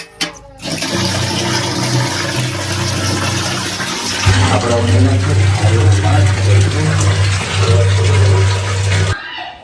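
Water running and splashing continuously during a bath with heated water, a steady rushing pour that grows fuller and louder partway through, close by and without talk.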